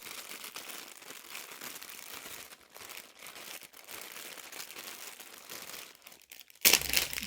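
Plastic-wrapped bag of lace being unwrapped, soft crinkling and rustling of plastic throughout, quiet and close, ending with a sharp louder crackle.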